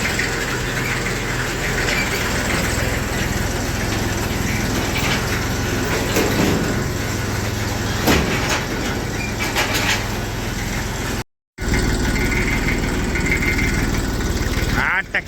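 A small Massey tractor engine runs with a steady, loud rumble throughout, dropping out briefly once, with a voice talking over the noise.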